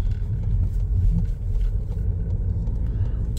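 Car interior during a U-turn in a driving lesson, a steady low engine and road rumble close up, continuous without talk.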